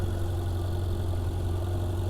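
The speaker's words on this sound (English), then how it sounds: "Here's the twin turbo V8 that is in the 488 GTB, which just makes such an amazing combination of induction and exhaust sounds simultaneously" 2016 Ferrari 488 GTB twin-turbo V8 with seven-speed dual-clutch transmission, idling with a steady low, even hum and a deep throb, close and constant throughout.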